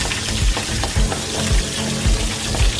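Green chilli, ginger, garlic and curry leaves frying in a hot pan for masala dosa filling, a steady close sizzle with periodic scraping stirs, no talking.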